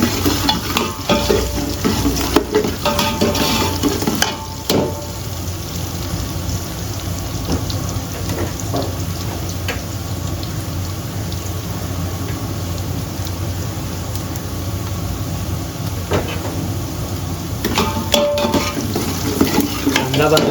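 Finely chopped onion frying in a pan for hotel-style dal fry, a loud continuous sizzle with occasional stirring clinks and scrapes of the spoon, close up and without talking.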